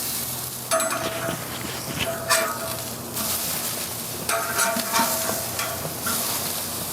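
Meat searing on a Primo Kamado grill after being flipped, a loud, close, continuous sizzle that swells in several bursts with occasional crackles, no talking.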